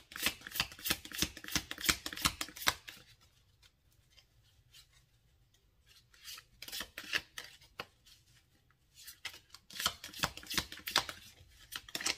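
Tarot cards are shuffled in rapid riffling bursts, first a long run, then a quiet pause, then two more runs of brisk shuffling, close and alone with no talk.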